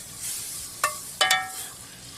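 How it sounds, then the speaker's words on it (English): Scrambled eggs hitting a buttered pan, a soft sizzle under two or three sharp clinks of a utensil against the pan, close and fairly quiet. "There goes our eggs in to scramble away, and they won't take long at all."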